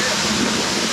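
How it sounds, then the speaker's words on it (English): Water bubbling and fizzing at a desert geyser, a loud, steady rushing hiss close by with no clear separate bursts. "Oh, you can see it bubbling."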